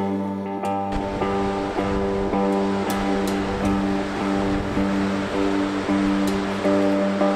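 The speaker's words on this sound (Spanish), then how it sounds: "hay dos saltos de agua de aproximadamente 13 metros de altura que se unen y forman este bonito lago" Double waterfall on the lava fields of Hekla volcano, Iceland, two roughly 13-metre falls merging into a pool, heard as a loud, steady, close rush of falling water.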